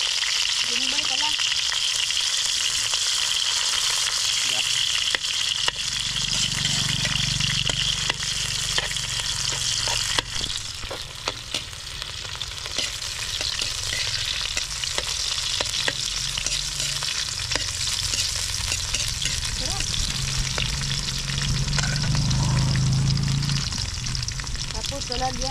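Garlic frying in a pan for pancit canton, a steady loud sizzle with stirring scrapes throughout, while someone talks over it.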